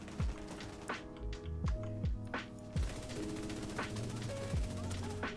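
Enemy gunfire striking the player character in The Division 2, sharp repeated impact cracks and rattling shots in an irregular rhythm over a steady mechanical background hum.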